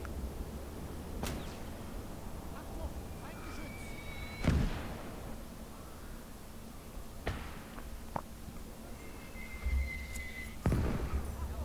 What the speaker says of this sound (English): Big boy mortar. Don't know who he's shooting at down there.